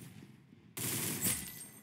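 Gunfire burst in the Roblox shooter Arsenal, a sudden loud crack at about 0.8 seconds followed by a sustained roaring blast that peaks once more before fading slightly, with quiet low game ambience beforehand.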